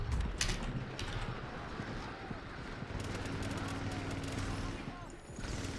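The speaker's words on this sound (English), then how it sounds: "we are getting shot from everywhere" Dense gunfire in The Division during an Onslaught mission, bursts of automatic fire and scattered shots coming from several directions, loud and continuous throughout with brief pauses.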